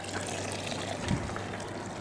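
Hot mineral spring water trickles steadily from a small outlet into a little bathhouse, a continuous close splashing wash with one brief heavier gurgle midway.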